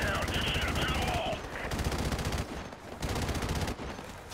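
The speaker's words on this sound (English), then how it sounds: "Get their flank with their machine gun." Rapid machine gun fire in the video game Call of Duty: Modern Warfare Remastered, loud dense bursts lasting most of the moment with brief gaps, mixed with game sound effects.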